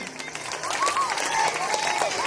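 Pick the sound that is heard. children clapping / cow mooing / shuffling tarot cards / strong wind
children clapping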